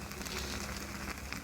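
Homemade pore-tightening skin cream gel simmers in a pot on the stove, giving a steady, soft crackling bubble with no pauses.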